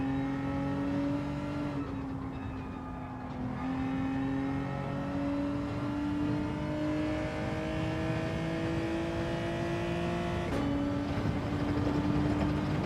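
A race car engine in Gran Turismo 7 holds a steady high-revving drone that climbs through the gears, with brief dips at upshifts, loud and continuous, with no talk over it.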